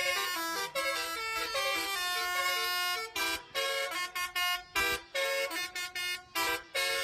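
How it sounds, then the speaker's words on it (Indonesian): Melodic telolet horn on a tour bus in a tourist parking lot, playing a loud, close sequence of bright tonal toots in bursts and short phrases with brief gaps, and no talking. "Alunan klakson telolet yang menggema di lokasi tersebut membuat suasana jadi ceria"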